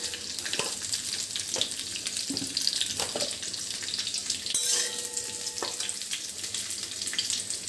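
Mango pieces fry in mustard oil in a wok, a loud continuous crackling sizzle with scattered spatula scrapes and a short ringing clink in the middle, without speech.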